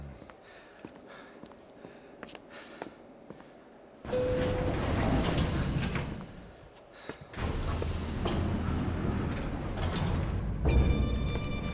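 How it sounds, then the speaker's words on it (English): Elevator machinery in Max Payne 3 starts with a thud, then runs as a loud, steady mechanical rumble and whir, dips briefly, resumes, and ends with a clunk of the doors; no talk over it. "The elevator would take me back up to Rodrigo's office where we could wait the rest of it out"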